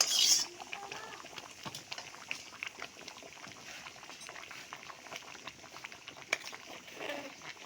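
Vegetable khichuri with tomato masala simmering in a pot, a quiet, soft bubbling and light patter that goes on steadily, heard alone at low volume.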